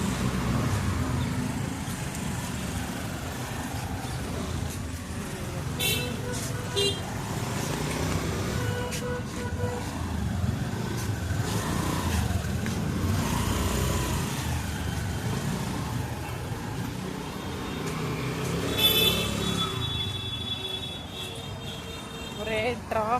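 Busy road traffic passing on a full street, a steady wash of car engines and tyre noise with occasional revving, heard under ongoing conversation.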